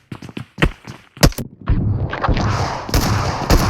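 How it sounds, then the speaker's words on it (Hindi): Shotgun blasts in a video game ring out as several sharp booming shots in quick succession, loud and close, followed by a rumbling wash of continuous explosive game noise. "ये रहा एक शॉट गन"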